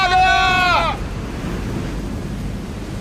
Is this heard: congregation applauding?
no